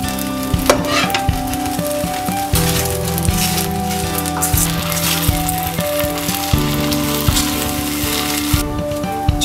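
Sauce and pasta sizzle loudly and continuously in a hot pan, with the crackle of frying and intermittent scraping and knocking as the mixture is stirred close up.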